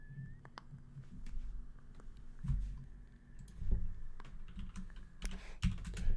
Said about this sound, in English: Are you typing that in?